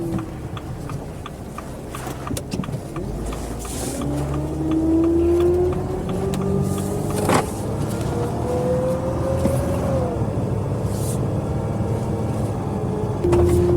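A Mercedes Sprinter van with a power problem accelerates hard with the pedal floored, its engine note climbing steadily in pitch with gear changes, loud and continuous from inside the cab.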